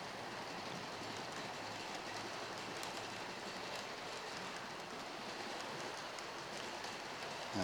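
A Class 43 HST (125) model train runs on a model railway layout, a steady, quiet rolling rumble and rattle of wheels on track that continues without a break.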